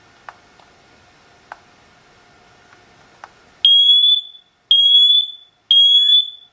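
Siterwell smoke and carbon monoxide detector in test mode: a few faint clicks, then three loud, piercing, sustained alarm beeps in a regular pattern, close to the microphone.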